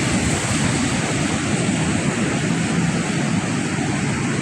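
Rough sea surf with strong wind at Borongan City, a dense continuous roar of waves and gusts buffeting the microphone, loud and unbroken, with no talking.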